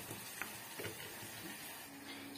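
Tomato roasting in a pan with coriander, a faint soft sizzle with a few small ticks and taps of utensils, quiet and steady.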